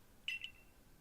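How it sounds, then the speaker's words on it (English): A single short electronic beep from the Arc Phone in Pokémon Legends: Arceus, faint and high-pitched with a quick double pulse and a brief fading tail, over quiet background. "Your ARC phone is beeping."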